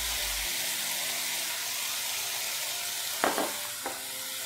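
Chicken sizzles steadily in a pan over a medium flame, a loud, even hiss throughout. Near the end come a couple of brief clinks or stirs.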